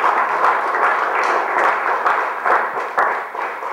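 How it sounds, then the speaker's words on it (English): A church congregation claps together in a dense, continuous burst of applause that stays loud and even throughout. "And we clap."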